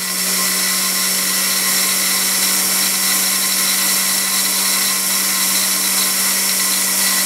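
A table saw motor runs steadily, a loud constant whine with a strong electrical hum, unbroken and close throughout.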